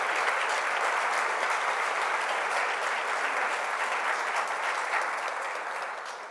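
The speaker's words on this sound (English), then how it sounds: "That's a well-deserved round of applause." Dense, even applause from a gala audience for the Center of Hope team, many hands clapping steadily at close range, gradually thinning and fading over the final seconds.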